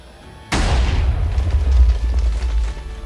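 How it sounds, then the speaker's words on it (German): A warship cannon in a naval battle video game fires with a single sharp, heavy boom loaded with extra propellant charges, followed by a long rumbling roll that lingers for several seconds. "Da hat die Kanone etwas mehr Wumms."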